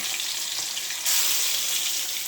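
Tilapia fillets fry in hot oil in a pan, giving a constant bright sizzle and crackle that swells slightly partway through, with no voices.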